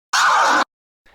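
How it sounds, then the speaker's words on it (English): A DJ flare scratch on a Hercules DJControl Inpulse 200 controller gives one harsh, loud scratched burst of about half a second, followed by a faint brief blip. "in this lesson I teach you how to do the flare scratch"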